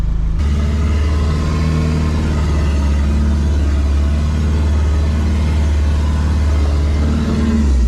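The power steering pump on a Toyota Land Cruiser VDJ79 runs under a loud, steady engine drone, with a constant low hum and faint whine held evenly throughout.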